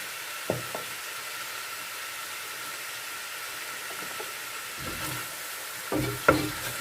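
Chicken biryani being stirred in a pot: soft scraping strokes over a steady hiss, with a few sharper clinks and scrapes near the start and toward the end.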